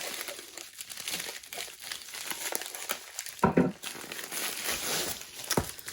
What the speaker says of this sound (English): This one is baggie inside of a baggie.